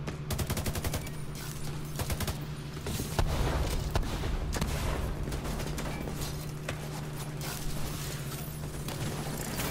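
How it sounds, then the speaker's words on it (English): Shotgun and other gunfire in a video game comes as rapid bursts and scattered booming shots, fairly loud and continuous, with no talking. "He's trying to snipe me with a shotgun."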